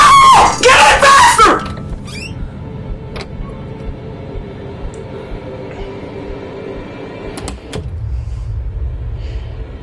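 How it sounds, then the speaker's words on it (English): A person screams loudly and harshly in a hotel setting for about a second and a half at the start, then the sound drops to a low steady rumble like a passing train, with a couple of faint clicks later. "I just gave myself a headache with that scream"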